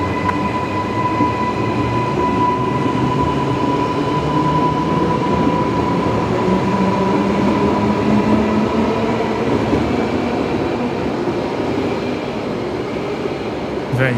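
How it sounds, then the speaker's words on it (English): An Airtrain departs Brisbane Airport with a loud, steady rail rumble and a sustained electric whine that hold for the whole stretch, with no voices over it. "Very, very distinctive sound there. One of the air trains departing off runway."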